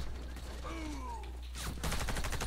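After a quiet stretch with faint tonal sounds, a loud rapid burst of automatic gunfire in the video game Warface erupts near the end and continues.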